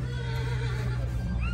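A large Marwari mare at a fair lets out one clear, close neigh with a shaky, tremulous pitch over steady background noise.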